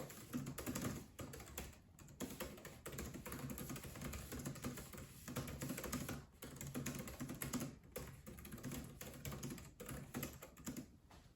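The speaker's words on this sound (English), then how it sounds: "And I'll do a quick typing test on here just to show you." Rapid, steady typing on a laptop keyboard, close up, with light plastic key clicks running continuously and brief pauses between bursts.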